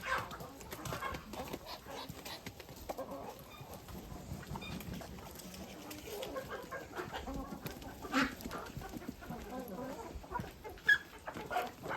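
Chickens clucking among a mixed flock of ducks and turkeys in a farmyard, a busy jumble of soft clucks and bird calls with a voice talking intermittently over them.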